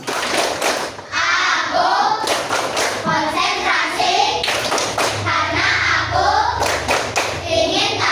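A group, likely children, claps a rhythmic concentration clap game in loud, steady bursts, with chanting voices woven through the claps.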